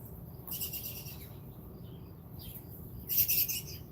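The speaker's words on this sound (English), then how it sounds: "the birds came over here to take a bath in my water" Small birds chirping and tweeting around a backyard water dish where they come to bathe, with two short bursts of bright calls standing out over a steady low outdoor rumble.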